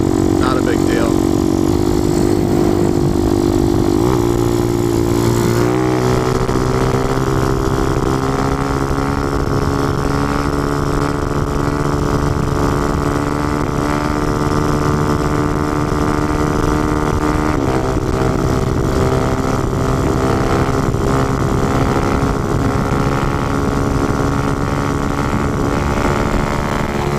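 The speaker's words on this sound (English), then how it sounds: "Shifting to fifth with this motor is like way different than shifting from third to fourth with the 140." A motorcycle engine drones steadily and loudly on a wheelie run at about 65 mph, with pitch shifts around gear changes into fifth, all under heavy wind rush.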